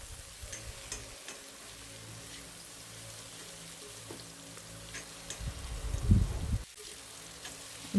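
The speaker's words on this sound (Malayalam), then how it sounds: "എന്നിട്ട് നല്ല രീതിയിലൊന്ന് ഇളക്കി എടുക്കുന്നുണ്ട്" Bitter gourd, onion and green chilli are stirred in a pan: quiet sizzling under scattered soft scraping and clicking of a spoon, with a louder stirring scrape near the end.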